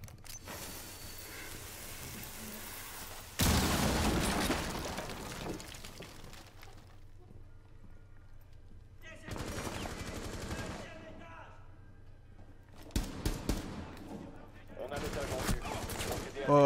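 Bursts of gunfire and a loud blast from a grenade in the tactical shooter Rainbow Six Siege, arriving in several sharp, loud clusters separated by quieter stretches of low game ambience.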